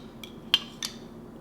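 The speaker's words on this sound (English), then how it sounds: "And I'll just do my final sort through with a spoon." A spoon sorting through kefir in a measuring cup gives three faint, quick clinks against the cup, the middle one the sharpest, in an otherwise quiet kitchen.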